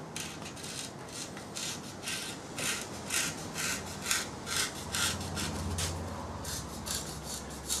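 Knife blade cutting down into wood near its edge, a series of close rhythmic rasping scrapes in short repeated strokes, moderately quiet, with no talking.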